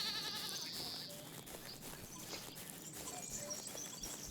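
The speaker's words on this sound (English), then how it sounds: "It's a goat herd." A goat herd in The Count Lucanor bleats throughout, several wavering calls overlapping at moderate distance, with a louder bleat at the start and more scattered cries following.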